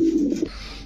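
A male Pakistani Rampuri pigeon gives a single short, close, throaty coo that fades out within half a second.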